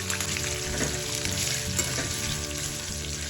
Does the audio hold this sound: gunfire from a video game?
no